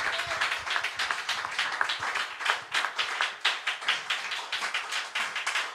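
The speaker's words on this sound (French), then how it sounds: "Recevons le pasteur Joseph avec acclamation." A church congregation at a Sunday service claps for the pastor, a loud, dense and steady patter of many hands that carries on without a break.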